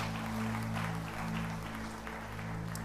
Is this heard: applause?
yes